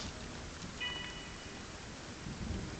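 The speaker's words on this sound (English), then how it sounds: "See that flash of thunder?" Steady rain with low rolling thunder fills a stormy scene in the video game Blackout, a continuous wash of rainfall with a few faint bright tones above it and a heavier rumble swelling near the end.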